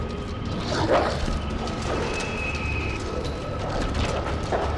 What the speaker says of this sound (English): Chad, I heard the dogs are free.